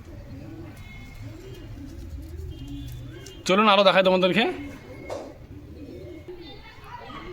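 Giribaj pigeons coo in soft, repeated low rolling calls, with someone speaking close by and a sharp burst of louder sound midway.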